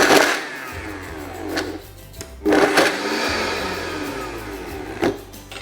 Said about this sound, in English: make sure it's on speed 10 and give it a couple of pulses